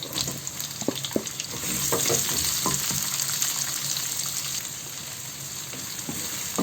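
Chopped garlic and onion are frying in a hot wok (kadai), sizzling steadily up close with a few sharp crackles and spatula clicks, and no voices.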